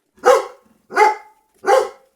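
A dog barks three times in a clear, evenly spaced rhythm, each bark loud and close, with silence between and no talk.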